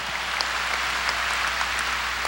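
A Korean church congregation at a 1992 Sunday service claps steadily in praise, a continuous even wash of hand-clapping throughout.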